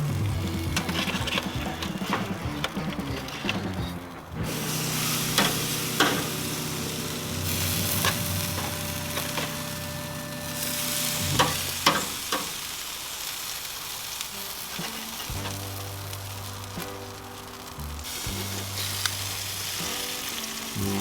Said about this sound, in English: I'm gonna get them back on the grill and we're gonna glaze them a little bit